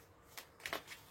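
A deck of tarot cards is cut with a few soft, quick riffling flutters close by, faint and brief, with no talk.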